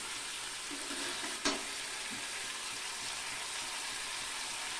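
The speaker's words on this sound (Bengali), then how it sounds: "লো ফ্লেমে রেখে আমি এভাবে নেড়ে ছেড়ে কাঁকাটা কষিয়ে নিলাম" Crab sautéed in oil over a low flame sizzles with a steady, soft frying hiss, broken by one brief scrape of stirring partway through; there is no talk.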